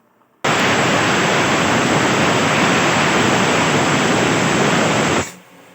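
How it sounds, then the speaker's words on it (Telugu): A pressure cooker cooking curry lets off a single loud, sustained hissing whistle of steam lasting about five seconds, starting and stopping abruptly. "చూడండి ఇప్పుడైతే విజిల్స్ 5 విజిల్లు వచ్చినాయి"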